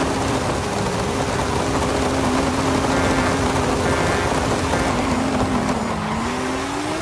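An Autozam AZ-1 drag car in Forza Horizon 5 revs hard, a loud, continuous high engine whine that climbs and dips as it revs out, with faint tire noise.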